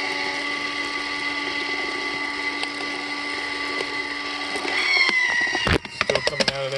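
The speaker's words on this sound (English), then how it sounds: "the auger is doing a pretty good job here of moving filament" A Filastruder auger turning in a vertical hopper pushes filament material along with a steady whirring motor drone and hum, then gives way to a few sharp clicks and knocks near the end.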